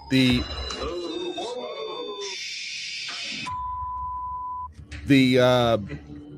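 A mobile phone gives off a steady electronic tone, first a buzzy block then a long clean beep, sounding mid-level between stretches of people talking.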